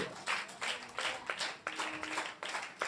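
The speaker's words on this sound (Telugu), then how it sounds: "చప్పట్లు కొట్టి దేవుడిని మహిమపరచు" A church congregation claps together in repeated bursts of applause, a loud, roomy wash of many hands, with no talking.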